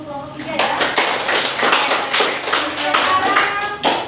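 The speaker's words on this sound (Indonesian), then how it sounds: "Tepuk tangan dulu untuk kelompok 3 ya." Classroom clapping for a student group that has just finished presenting, a few seconds of close, bright hand claps in uneven bursts with voices underneath.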